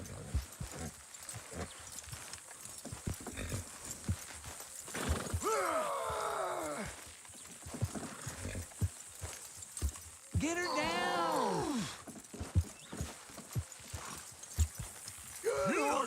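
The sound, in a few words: horses trotting, from video game Red Dead Redemption 2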